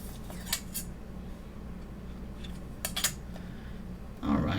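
Cutting material to trim the end of a shamrock cane: a few short, close snips and crisp scissor-like cuts, spaced apart over a quiet room hum, ending with a soft handling rustle.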